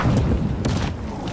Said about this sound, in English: Throwing a sticky bomb.